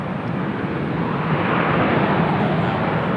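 An Alaska Airlines jet at Raleigh-Durham International Airport gives off a steady, loud broadband engine roar that holds evenly throughout without pause.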